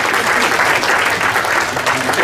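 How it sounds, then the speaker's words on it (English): Dense, loud applause fills a conference room as an audience welcomes a guest onto the stage, steady throughout the short stretch with a faint murmur of voices mixed in. "Let's give him another big round of applause."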